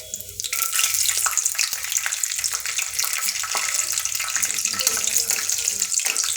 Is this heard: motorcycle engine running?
no